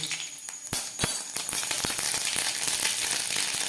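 Half a spoon of mustard seeds hit hot oil alongside freshly fried peanuts, giving a steady close sizzle with scattered sharp pops and crackles throughout.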